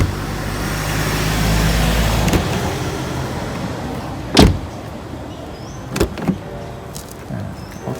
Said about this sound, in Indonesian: Dan ini suara pintunya.